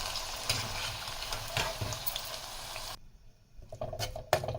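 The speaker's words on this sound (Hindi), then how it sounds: "और मिर्च को थोड़ा मैं हल्का और फ्राई कर रही हूँ।" Stuffed green chilies fry gently over a low flame, a soft sizzle with stirring that cuts out briefly near the end before faint clinks and frying return.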